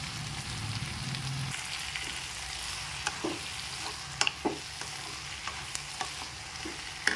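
Mango and brinjal curry with garlic sizzles steadily in a pan, a continuous close frying hiss with occasional clinks and scrapes of stirring, no voices.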